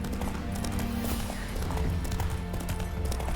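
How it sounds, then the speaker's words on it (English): A spooked horse in The Witcher 3 video game clatters its hooves in a rapid, busy clip-clop, close and fairly loud, with a whinny mixed into the dense game soundscape. "Spooking my horse. Roach doesn't like ghosts."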